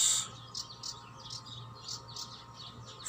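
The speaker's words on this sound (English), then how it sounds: "I am in meditation with lovebirds" Lovebirds give repeated high, short chirps at an even pace in a quiet outdoor setting. The calls are moderately close over a soft, low background hum, with no voices present.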